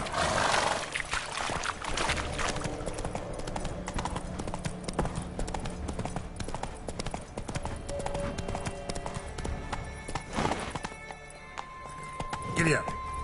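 In Witcher 3, a horse gallops with rapid rhythmic clip-clop hoofbeats, an occasional neigh and game sounds layered over it, while a person talks throughout.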